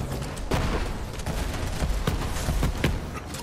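Rapid volley of grenade-launched shots and blasts in the game Borderlands 3, loud and close, with repeated sharp bursts over a dense rumbling background of combat noise.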